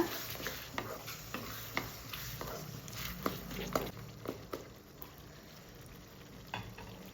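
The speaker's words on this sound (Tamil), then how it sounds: "பூண்டு வேகட்டும் இப்போ பூண்டு நல்லா வதங்கிடுச்சு" Garlic sautéing in a pan for a bottle gourd curry, a steady soft sizzle broken by repeated light taps and scrapes of a spoon stirring against the pan.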